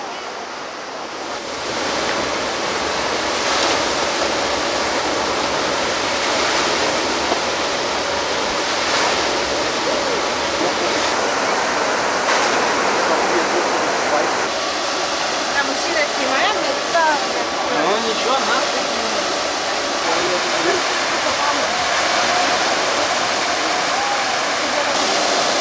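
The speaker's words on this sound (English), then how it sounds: "The cascades fill with water and thousands of liters pour down into the valley with a roar." Water roars down the 300-year-old Wilhelmshöhe cascades in Kassel's mountain park in Germany, thousands of liters pouring into the valley as a loud, steady rushing wash that holds unbroken throughout, with faint crowd sounds beneath.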